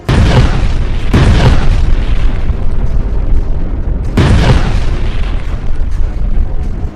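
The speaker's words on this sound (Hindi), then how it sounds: "बेरूत से 100 गुना बारूदी धमाके यहां हुए हैं।" Heavy booming explosions, two loud blasts about three seconds apart, each followed by a long rumbling roar and debris-like crackle.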